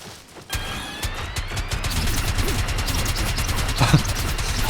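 Turret gunfire in the game Marathon, a loud, sustained stream of rapid automatic shots that keeps a steady rhythm for several seconds, with faint higher whines beneath it.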